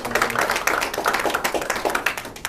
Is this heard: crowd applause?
yes